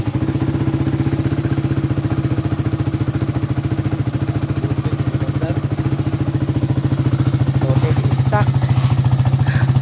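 A Flame 150x motorcycle engine idles steadily after starting, its rapid regular putter loud and close, with a few faint clinks and a slight rise in level toward the end.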